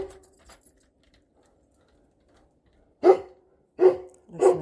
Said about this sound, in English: Listening to my dog bark.